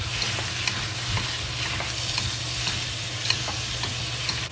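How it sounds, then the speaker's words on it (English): Pork sizzles steadily in a pan with spices, a constant close crackle and hiss with occasional stirring scrapes and pops, no voices over it. "We slowly fry the meat."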